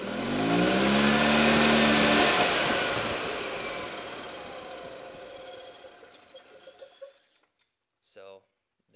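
E-Z-GO off-road golf cart with an installed head unit, its clutches engaging instantly as the engine revs hard and loud, then winds down and fades to near silence with a few faint clicks.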